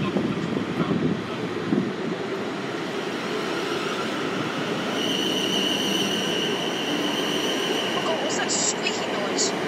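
A class 450 electric train pulls away from platform 5 at Woking, a low rumble with rising motor whine and steady tonal hum, wind buffeting the microphone, brief squeaks near the end.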